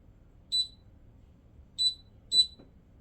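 Three short, high electronic beeps from a kitchen timer being set for baking a cake, well spaced and fairly close, over a quiet room hum.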